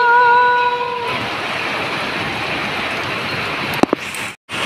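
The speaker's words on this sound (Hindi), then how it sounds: "ये देखो गाइस कितनी मोटी बारिश हो रही है।" Heavy rain hisses down in a dense, loud, continuous wash after a brief tonal hum at the start, with a couple of sharp knocks near the end.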